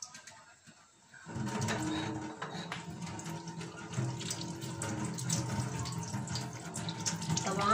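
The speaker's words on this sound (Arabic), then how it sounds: "هروح بقى اغسل ايديا" A tap turns on and water runs steadily into a sink while hands are washed beneath it, a close continuous splashing that starts after a short quiet moment.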